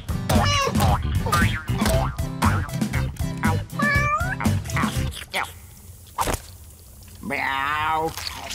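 Several meows from a voice imitating a cat in an Indonesian-dubbed Smurfs cartoon, mixed with music and sound effects, plus a final drawn-out meow after a short pause.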